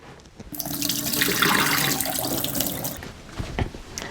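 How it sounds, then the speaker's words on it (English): Water rushes from a kitchen tap into a sink as soaked red onion slices are drained, a steady broad splashing stream lasting a few seconds before tapering off, close and loud with no voices. "I'm gonna go ahead and drain our onion."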